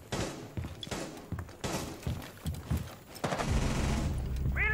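Gunfire from the video game Rainbow Six Siege rattles in bursts of rapid shots, loud and close, with a sustained burst toward the end.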